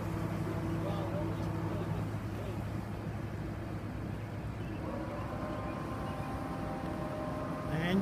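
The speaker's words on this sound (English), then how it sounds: "And you can hear another boat." Engine drone of another boat passing near a Grand Alaskan 64 at Great Bridge Lock, a steady low rumble with harmonic hum and wind noise throughout, under occasional talk.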